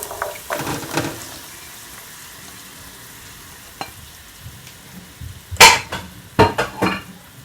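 Mixed vegetables for vegetable fried rice frying in a pan, a quiet sizzle running underneath as a spoon stirs and scrapes, with sharp clinks and knocks of utensil against the pan clustering toward the end.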